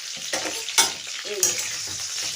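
Raw banana, papaya, potato and eggplant curry with black cumin and green chilli frying and being stirred in a pan, a steady close sizzle broken by a few sharp scraping stirs.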